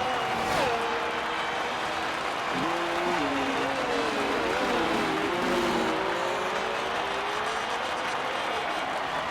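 Formula 1 race cars in a video game recreation of the 2000 Belgian Grand Prix, with a constant dense engine roar and whining pitch sweeps as the cars rev and shift gears close together on track.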